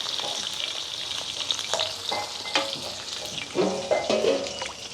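Sliced onions, green chilies and curry leaves with fenugreek, mustard seeds and asafoetida fry steadily in hot oil in a village kitchen, a constant close sizzle broken by spatula stirs and scrapes.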